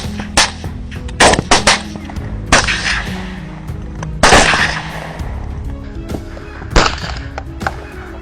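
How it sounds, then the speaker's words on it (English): Rifle shots fired one after another at a herd of wild boar at night, several loud sharp cracks spaced irregularly over a rustling outdoor background. "I fired round after round toward the herd"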